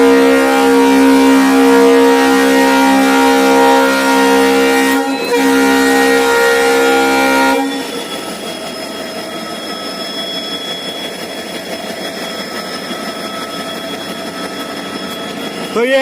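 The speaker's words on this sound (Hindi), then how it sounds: "तो ये है अपना लोकोमोटिव WDP4 सिलीगुड़ी का।" A WDP4 diesel locomotive at Siliguri sounds a loud, sustained, steady horn for about seven seconds. The horn then cuts off, leaving the engine's broad rumble running on at a lower level.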